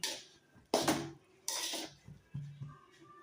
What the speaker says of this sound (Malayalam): ചട്ടിയിലിട്ടിട്ട് ഇങ്ങനെ മാഗി മിക്സ് ചെയ്തുകൊണ്ടിരിക്കണം കേട്ടോ.